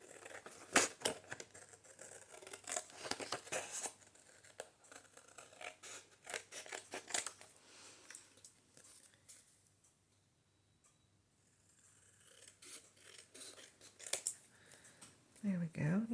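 Scissors cut out a paper journaling card in a craft room: close, crisp repeated snips and paper rustles in irregular bursts, a quiet pause midway, with soft speech in places.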